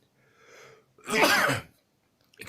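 A person sneezes once, close up: a soft sharp inhale, then a loud explosive burst, followed by a faint breath.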